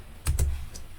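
A few quick keystrokes tap out a Linux command on a computer keyboard, close and crisp, with two clustered clicks followed by a lighter one.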